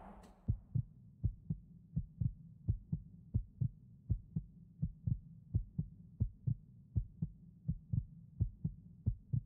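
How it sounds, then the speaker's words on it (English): The low-health heartbeat effect in Skyrim, a modded playthrough, thumps as a steady, soft double-beat pulse repeating about twice a second, low and muffled, with no other sound over it. "You're about to die. Heartbeat."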